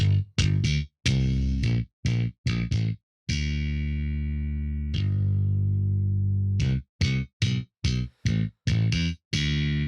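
A bass part run through Neve desk channel emulation carries rich harmonic distortion: staccato gritty notes, then two long sustained tones whose overtones fade, before the choppy pattern resumes, with no talk.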